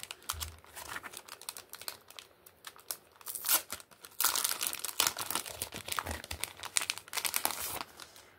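Paper crinkles and rustles during an unboxing of journaling supplies, bursts of close, crisp crumpling and tearing-like scrapes, louder in the second half, with quiet gaps between handling.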